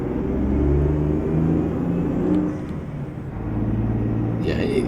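A Mack R truck with a 237 hp engine and twelve-speed gearbox in American Truck Simulator drones steadily at low pitch, the revs rising and falling as it shifts through gears, with a voice speaking over it.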